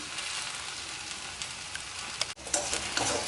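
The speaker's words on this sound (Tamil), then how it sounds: "நல்லா வெண்டிக்காய் இப்போ வதங்கிடுச்சு" Okra sautéing in a pan for a Chettinad okra and tamarind curry gives a continuous close sizzle, with scattered crackles and stirring scrapes and one brief break partway through.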